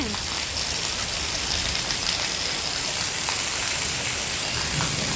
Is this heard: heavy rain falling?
yes